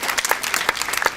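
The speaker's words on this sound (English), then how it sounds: "Please give them a big round of applause." A community event audience breaks into a brief, lively burst of applause, many hands clapping at once, loud and close.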